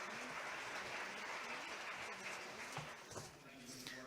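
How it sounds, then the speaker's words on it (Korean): Conference audience applauding during a session of the Seoul ODA International Conference, a steady dense wash of clapping that holds for about four seconds and thins slightly near the end, with a faint voice mixed in. "박수 부탁드립니다."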